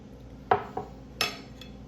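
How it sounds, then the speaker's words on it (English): Crisp cracking of a baked mac and cheese crust in a cast iron pan, three short crunchy snaps spaced apart, close and fairly quiet with no talk. "You hear that? That crust just cracking just a little bit."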